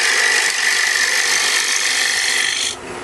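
A hand cutting tool shaves steadily across wood while shaping a mushroom-style cap for a birdhouse, giving a continuous close rasping scrape that stops abruptly near the end.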